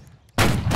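A rifle volley crashes out in a Civil War line-battle video game, one sudden loud burst of massed musket fire after a quiet moment, its roar sustained to the end.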